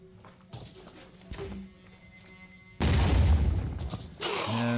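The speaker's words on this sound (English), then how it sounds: "We're going to do our single grenade back here" A grenade goes off in the Phoenix Point video game, a sudden loud booming blast partway through that holds a roaring rumble before tailing off, after quieter game clicks and thuds.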